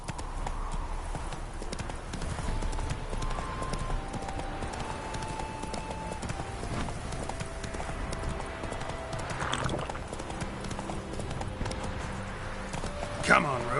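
Roach, the horse in The Witcher 3, trots with steady clip-clopping hooves at a regular rhythm, heard under game music and character speech, with a brief louder knock near the end.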